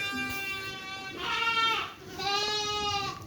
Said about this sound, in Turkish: Aha 7 numara. O Abdurrahman'ın kuzusu